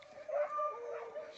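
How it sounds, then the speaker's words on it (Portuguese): Hunting dogs out on a nighttime paca hunt bark and yelp from a distance, faint whining and yipping calls rising and falling briefly with no talk. "Torinho, que povo de cachorro esse aí."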